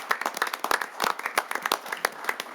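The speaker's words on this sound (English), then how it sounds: "one more big round of applause for these two new firefighters" An audience at a city council meeting claps for two new firefighters, a sparse round of distinct individual hand claps, close and uneven, with no talk over it.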